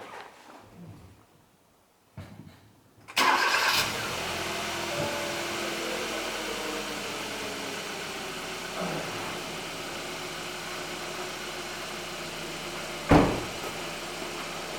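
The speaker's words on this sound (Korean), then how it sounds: "제가 일단 시동을 켜고, 시동을 걸고" A white 2016-era Hyundai Avante AD 1.6 GDI gasoline automatic cranks and starts after a few seconds of quiet handling noises, then settles into a steady close idle hum, with a brief thump near the end.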